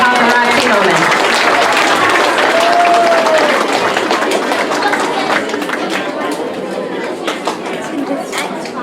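Sustained audience applause and cheering for students receiving Be Responsible Expectation certificates at a school awards ceremony, steady and loud throughout, with crowd chatter mixed in as it slowly tapers.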